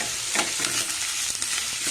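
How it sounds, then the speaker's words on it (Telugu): Onions sizzle in a pan for a tomato curry, a steady close hiss of frying broken by a few scraping stirs, with no voices. "1 నిమిషం పాటు ఉల్లిపాయలు వేగిన తర్వాత"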